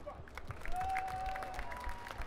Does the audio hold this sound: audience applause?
yes